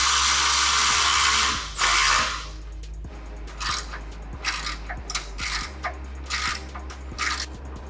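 A power tool drives new bolts into rock slider brackets on a 60 Series Toyota Land Cruiser FJ62: a loud opening whir, then a string of short ratcheting bursts with small metallic clinks in between, close by and with no speech.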